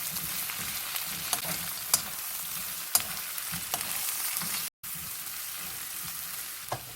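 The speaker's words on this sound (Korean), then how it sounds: "절여놓은 오이를 여기다 넣을 거예요. 이렇게 볶아주세요." Salted cucumber stir-frying in a pan, a constant close sizzle with occasional light spatula taps and a brief dropout partway through.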